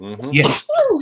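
A single sharp sneeze bursts out near the mic, briefly interrupting casual talk before and after it.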